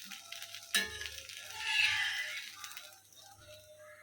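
Dosa batter cooks on a hot pan with a soft, quiet sizzle that swells briefly in the middle and then fades.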